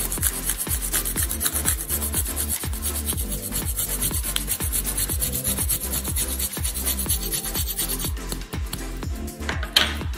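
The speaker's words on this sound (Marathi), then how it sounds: "थोडंसं चीज किसतोय." Cheese grated onto a slice of bread in a home kitchen makes rapid, regular rasping strokes, close and fairly loud, continuing steadily with a brief pause near the end.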